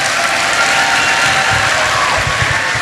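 A church congregation applauds during a worship service, a dense, steady wash of clapping filling the space throughout with faint cheering mixed in.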